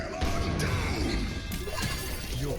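Earth Shatter ability impact in Overwatch, a heavy crashing slam with a whooshing swish, loud and close, followed by a rumbling tail of game effects.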